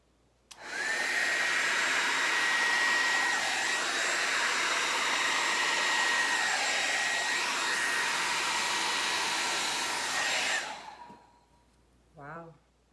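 A hair dryer blowing back paint of a Dutch pour on ceramic tiles, switching on abruptly and running as a loud, steady whirring roar for about ten seconds before cutting off, followed by a brief voice.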